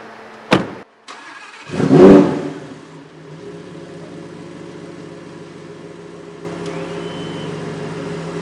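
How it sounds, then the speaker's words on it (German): A Lamborghini Huracan Performante starts up close by with a sharp crank and a loud revving flare, then settles into a steady idle before pulling away with a rising engine note. There is no talking. "ich tue jetzt mal so, als würde ich wegfahren mit dem Auto"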